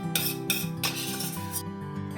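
A spoon clinks and scrapes against a bowl while strawberry puree is stirred into a casatta ice cream mixture, a steady run of close metallic taps and chinks with no talking.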